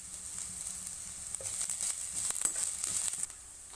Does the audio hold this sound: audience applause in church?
no